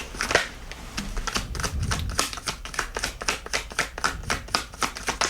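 Playing cards being shuffled, a rapid series of crisp riffling snaps and taps in a steady rhythm, close and fairly quiet with no talk over it.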